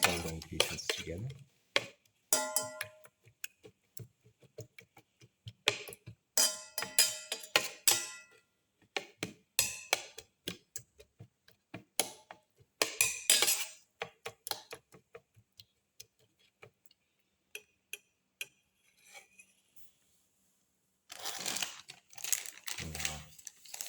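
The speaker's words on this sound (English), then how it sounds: "Thoroughly mix and crush all the ingredients together." Egg, tomato, shallot and black pepper being mixed and crushed in a bowl, with irregular clicking, tapping and scraping strokes coming in bursts separated by short pauses.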